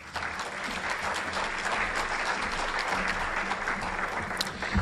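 A seated audience at a civic panel event applauding the panelists, a dense, even wash of clapping that holds steady throughout with no voices on top.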